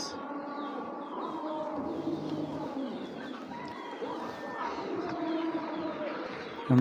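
Pigeons coo softly and repeatedly alongside other birds, making a steady, busy bird background at a pigeon seller's loft with no talk.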